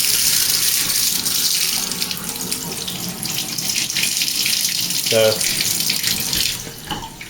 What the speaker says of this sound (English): when I put on the shower